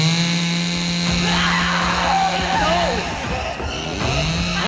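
A chainsaw engine drones and revs in a Tales From The Crypt horror episode, a steady buzzing whine with rising pitch sweeps, and voices heard under it.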